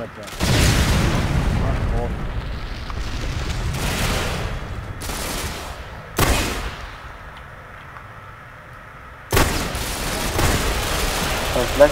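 Several loud video-game explosions from thrown grenades in a shooter match, sharp booms with rumbling tails, one after another, with excited players talking over the gunfire and blasts.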